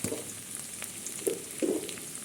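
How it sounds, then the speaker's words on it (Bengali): Diced potatoes frying in a pan with onions, a soft steady sizzle with a few louder bursts as the pieces are stirred, close and fairly quiet, with no talking. "ডুমো ডুমো করে যে আলুটা রেখেছিলাম ওটা আমি ভেজে দেবো"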